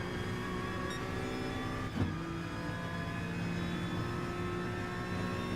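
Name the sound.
Honda NSX race car engine in a racing video game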